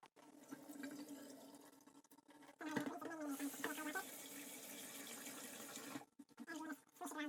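Tap water runs into a pot to rinse boiled rice, a steady splashing stream that starts, swells louder midway, then cuts off abruptly before resuming briefly.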